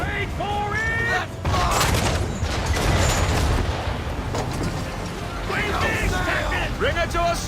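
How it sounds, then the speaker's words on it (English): Ship cannons fire a broadside in Assassin's Creed 3 naval combat, a rolling roar of heavy blasts over wind and sea, while crew members shout orders. "Broadside from the man of war!"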